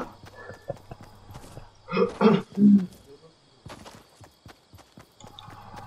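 A horse in a video game whinnies and snorts in a loud, close burst of a few seconds, surrounded by quieter game sounds and clatter.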